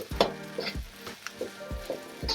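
Salt fish fried rice is stirred and tossed in a hot wok, with short bursts of sizzle and spatula scrapes coming in a loose rhythm of about five strokes, close and fairly quiet.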